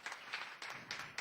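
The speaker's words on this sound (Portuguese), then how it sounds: "Linda salva de palmas ao Senhor Jesus" Church congregation at a service with Pastor Walter Mattos claps for Jesus, a short burst of fairly faint, rhythmic hand claps with about four distinct beats.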